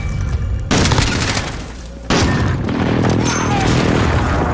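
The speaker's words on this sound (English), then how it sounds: "precision airstrike incoming" Airstrike explosions in a shooter video game, two heavy booming blasts that hit abruptly and roll on loudly with dense crackling debris, close and dominating the scene.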